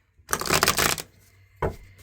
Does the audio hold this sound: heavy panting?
no